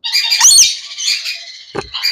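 Young birds of various breeds squawk harshly and shrilly up close, a few loud rasping calls in quick succession with brief pauses between them.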